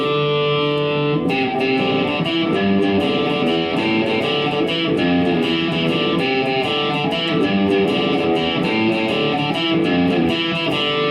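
A loud, distorted electric guitar plays a riff with driving band accompaniment, continuous, fast and punchy, with no voices.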